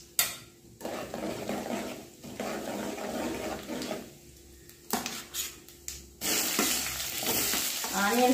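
Mustard seeds, cumin and fenugreek hit hot oil in a pot with an uneven crackling sizzle broken by spoon scrapes and metal clatter, ending in a louder, sustained fry.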